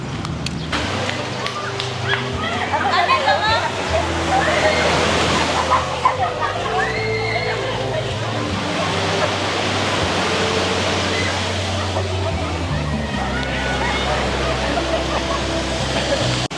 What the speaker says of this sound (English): This is a volcanic sand beach